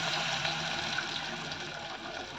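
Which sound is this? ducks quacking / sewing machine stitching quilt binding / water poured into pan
water poured into pan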